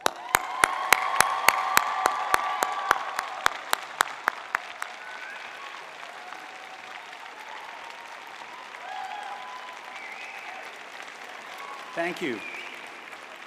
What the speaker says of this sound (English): Lift them up high right now with a big round of applause.